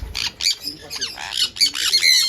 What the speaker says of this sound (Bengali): আর এই পাখিগুলো এই আমাকে দেখে চেল্লাচ্ছে দেখুন